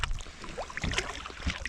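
Kayak paddled into Tobermory Bay off the Sound of Mull on a calm day, with faint, irregular paddle splashes and soft water movement under light wind, quiet and close.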